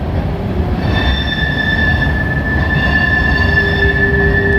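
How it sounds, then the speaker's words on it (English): A very long freight train rolls slowly past close by, its wheels squealing continuously in a sustained metallic whine over a loud, steady rumble of rail cars, with no talk. "I didn't know there were trains this long."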